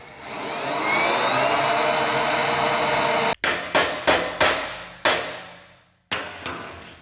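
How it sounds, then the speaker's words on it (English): A power drill bores holes to mount a bumper on an AMC Gremlin burnout car. One long, steady whine is followed by several short, sharp bursts separated by pauses. "So let me drill these holes, we'll get it set on there"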